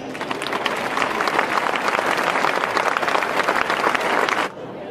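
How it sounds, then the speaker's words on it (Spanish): A large crowd claps loudly and steadily during the opening proclamation speech of the 2017 Alcorcón patron saint festival. The applause stays dense for about four and a half seconds, then cuts off abruptly. "Y pido el mayor aplauso de la noche para ellos."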